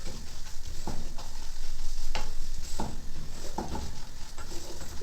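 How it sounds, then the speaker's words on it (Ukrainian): Buckwheat with egg being stirred and fried in a pan, a loud continuous sizzle broken by repeated scraping strokes of a utensil against the pan at an uneven rhythm, close up with no talk. "Помішуємо до тієї пори, поки гречка знову стане розсипчастою."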